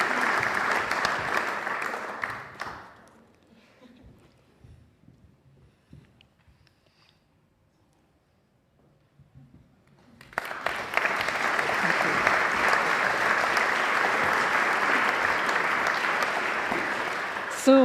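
An audience at a goldsmiths' craft and design awards ceremony applauds in a loud, dense burst that fades to near silence, then breaks out again in a second long round of clapping.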